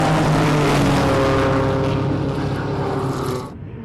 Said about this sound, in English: car looking good, sounding good